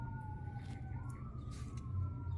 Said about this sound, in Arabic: هذا سيارات إسعاف يصيحن